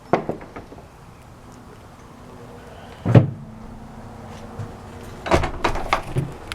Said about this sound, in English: Should we close the big door?